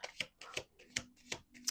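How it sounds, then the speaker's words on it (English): Quiet riffle shuffle of a deck of playing cards, five quick crisp bursts in an even rhythm, heard up close. "let's do one more shuffle"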